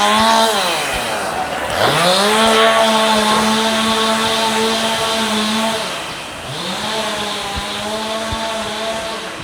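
Busy early-morning street traffic in Shanghai, with loud, close engines revving and climbing through gears, then dropping and rising again as vehicles pull away nearby.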